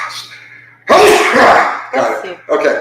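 A single loud, close sneeze bursts out abruptly, followed by short spoken exchanges.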